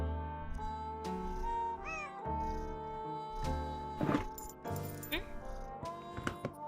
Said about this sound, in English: A pretty kitty.